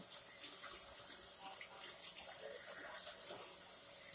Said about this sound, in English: So my beans are rinsing.